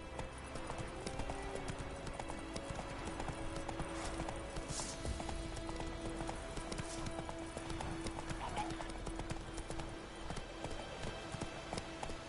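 Horse hooves clip-clop at a steady gallop for Roach in the video game The Witcher 3, with a brief whinny partway through and soft ambient game sound underneath.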